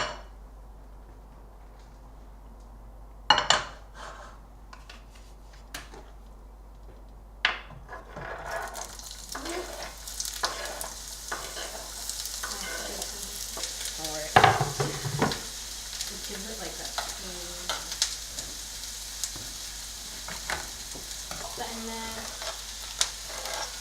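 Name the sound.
onions and tomatoes frying in a pan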